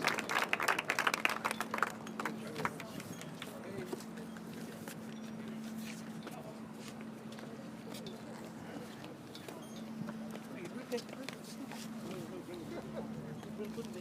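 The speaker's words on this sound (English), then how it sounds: "Another round of applause." Applause from an outdoor crowd at a Human Values Day celebration on Parliament Hill in Ottawa, with a strong burst of clapping at first that thins to scattered claps amid crowd murmur, a steady low hum and footsteps.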